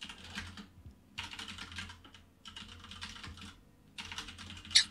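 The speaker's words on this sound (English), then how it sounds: "Excuse my clacky keyboard for a minute." Someone types in bursts on a clacky computer keyboard while coding, with crisp, close keystrokes in four quick runs separated by short pauses.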